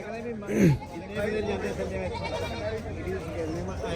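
Goat bleats once, loud and close, at a busy rural goat market, with a steady murmur of crowd chatter around it.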